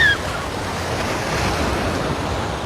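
Ocean waves wash up at Waikiki beach in Hawaii as a continuous loud surf roar with gusty wind noise on the microphone, and no talk.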